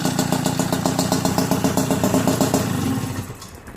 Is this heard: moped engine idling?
yes